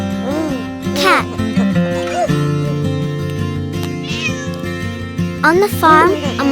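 A cat on a farm meows several times in drawn-out, varied calls, clear and close, over steady background music.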